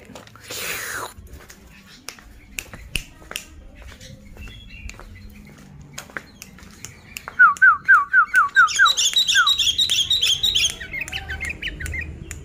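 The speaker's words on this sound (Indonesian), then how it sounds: "Sekarang kita tinggal lihat burung kutilang saya yang satunya itu yang gacor. Tuh, sudah manggil-manggil itu." A caged sooty-headed bulbul (kutilang) gives quick, bright repeated calls, first a run of short chirps and then a denser, higher series, close and clear above faint scratching and rustling in a quiet room.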